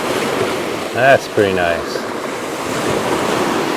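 Waves break and wash as white water along the Lake Superior shore, a steady roar of surf with wind noise throughout, while a person briefly talks over it.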